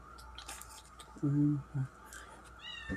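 A cat gives a short meow followed by a brief second one, close by, amid quiet room noise and faint rustling.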